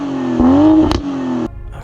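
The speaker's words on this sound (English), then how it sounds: "the car sounds much better now that it's gone through the miles" A BMW M340i engine revs up and back down close by, with a sharp clatter partway through before the motor drops to a lower hum.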